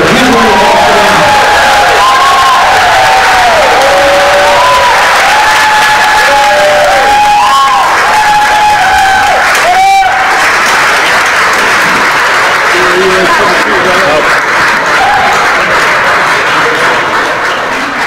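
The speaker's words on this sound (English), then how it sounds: "Huge round of applause for them." Audience applause at a political candidate forum rolls on loudly for a long stretch, dense clapping mixed with cheers and whoops from a large crowd, with a voice booming over it partway through.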